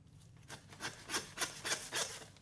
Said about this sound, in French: Moi je préfère la scie.